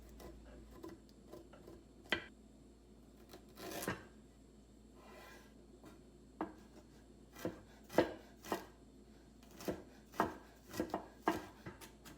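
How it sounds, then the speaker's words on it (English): Fresh ginger being minced with a knife on a board, a series of sharp chopping taps that begin sparse and become quicker and more regular, close and clear with no talking. "I'll clean and I'll mince some fresh ginger"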